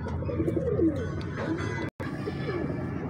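Pigeons at a breeder's loft, with a hen sitting on eggs, give low cooing calls throughout. A dove-like coo stands out early, over steady close room noise, and there is a brief dropout near the middle.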